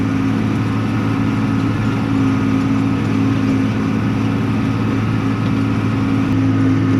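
Tractor engine drones steadily at close range while pulling a rented mower through a field, a constant low hum with no breaks.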